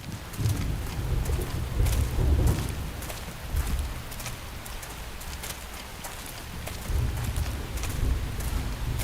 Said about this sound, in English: The rain's starting to let up, just in time for sunrise.